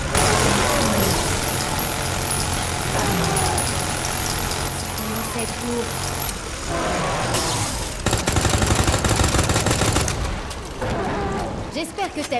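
Gunfire from weapons in Resident Evil 2 Remake: bursts of rapid, loud shots buried in dense, continuous game noise and music, with someone talking over the action.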